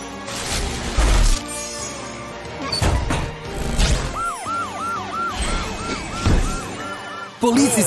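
A cartoon police truck's siren wails in repeated rising-falling whoops amid music and crash effects, loud and close in an animated chase scene.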